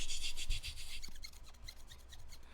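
Fingernails rubbing the textured plastic of a Turtle Beach Rematch Core wired Xbox controller, a close, raspy scratching in quick strokes, then a run of small ticking clicks, quiet and alone.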